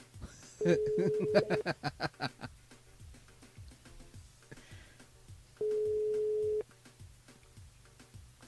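Ringing tones come down a telephone line as a radio show calls a listener. Two long, steady tones are separated by a pause, and faint rhythmic ticking runs underneath.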